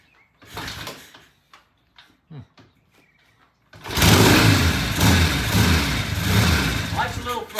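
A tired old vintage British motorcycle engine fires up after several short, sputtering bursts, then settles into a loud, steady idle with a little throttle, close by, with voices talking over the early attempts.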